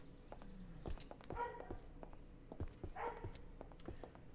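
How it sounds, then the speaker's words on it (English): A dog barks outdoors in short, muffled bursts, some sounding distant, with small yips and scattered rustling between them, and no speech. "Oh, there's a dog outside."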